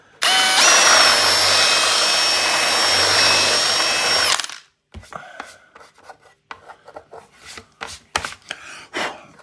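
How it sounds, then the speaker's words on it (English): A power drill bores through the casing of a broken PlayStation with a loud, sustained whine for about four seconds, then stops, followed by scattered clicks, taps and rattles of handling the console up close. "And I can lift it up to finish and drill through."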